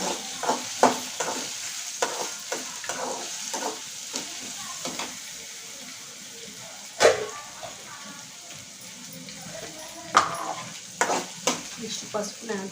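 Onions frying in oil in a home kitchen pan for egg curry, with a steady sizzle under repeated stirring scrapes and clinks; a person speaks intermittently over the cooking.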